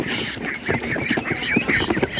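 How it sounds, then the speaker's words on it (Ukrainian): A duck quacks repeatedly amid the busy clatter and murmur of a crowded animal market. "Ну, це дуже класна качка."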